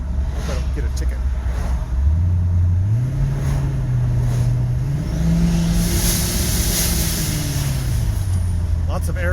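An old black pickup truck, newly fitted with modern fuel injection and a turbo, revs up in rising and falling sweeps with loud intake air sucking and whooshing, heard close from inside the cab.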